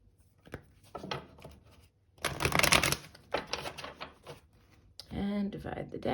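A tarot card deck is shuffled in bursts of papery riffling and snapping, with a pause before the loudest stretch of shuffling; a faint voice sounds briefly near the end.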